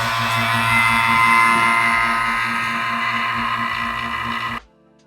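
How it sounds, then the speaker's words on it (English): A vacuum bleeder runs steadily, drawing air out of a Fox 3.0 internal bypass shock with a constant mechanical hum and faint pulsing for about four seconds before stopping abruptly. "We're gonna use the vacuum bleeder, get all the bubbles out."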